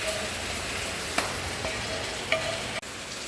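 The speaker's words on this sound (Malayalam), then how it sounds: "ഇനി ഇതൊന്ന് നല്ല നന്നായിട്ടൊന്ന് മിക്സ് ചെയ്യും" A jackfruit mixture is mixed in a pan over a low steady sizzle, with two or three faint spatula clicks and a brief scrape near the end.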